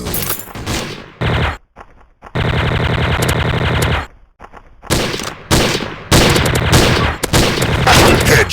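TMP submachine gun fire during a Special Ops match on the Ice Town map, loud rapid automatic bursts separated by short pauses, with brief gaps between volleys.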